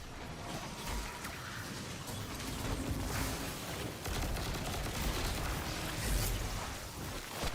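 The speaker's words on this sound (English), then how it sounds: "I really hate using auto rifle or healing auto rifles" Rapid bursts from an auto rifle in a video game, a steady rattling volley of shots at moderate level running throughout with a few heavier accents.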